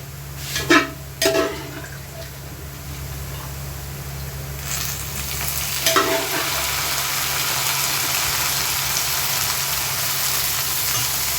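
Beef pieces frying in hot oil in a pan, a steady close sizzle with a few sharp scrapes and clatters of stirring near the start and again midway, the frying growing denser toward the end.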